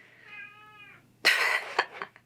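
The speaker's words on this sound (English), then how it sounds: "I have a cat in here." A cat meows indoors with one drawn-out tonal cry, followed by a few short, louder scratchy sounds, near and with no talking.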